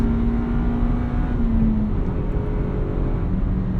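Cabin sound of a 1999 Honda Civic Si (EM1) under way, a continuous engine hum with a brief pitch change, wrapped in steady road noise, with no one talking.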